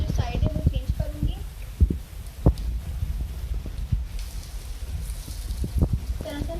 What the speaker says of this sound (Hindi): इसको फ्राई कर लेंगे पहले एक साइड से।